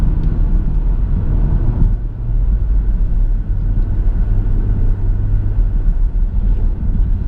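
A BMW M140i's engine pulls hard under acceleration, a loud, steady low rumble that dips briefly at a gear change before building again, heard from inside the car with no talking.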